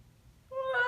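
A voice imitates the rising build-up of an almost-sneeze on a bus, a short, quiet breathy onset swelling into a brief voiced 'ah' near the end.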